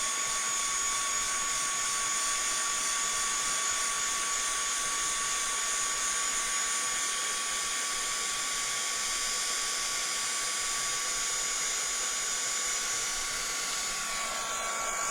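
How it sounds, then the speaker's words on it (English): A heat gun blows hot air over a mixed media art piece made with MDF and papers, a steady loud whir with a high whine that runs unbroken from start to finish, with no voices. "heat dry this little lot"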